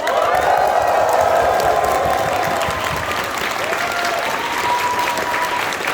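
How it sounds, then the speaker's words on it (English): A large convention audience at an opening ceremony applauds and cheers the stage crew, dense sustained clapping with a few whoops and whistles rising over it, steady and loud throughout. "Shall we say a big cheer for the stage crew?"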